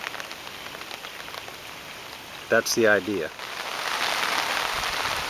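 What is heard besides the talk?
light rain falling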